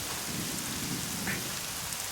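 Heavy rain pours steadily in a dense, even hiss, close and continuous with a low rumbling undertone and no voices.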